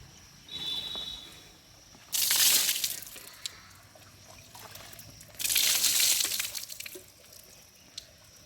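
Water splashes in two loud bursts while someone bathes at a farm water tank, each lasting over a second, with quieter dripping and trickling in between.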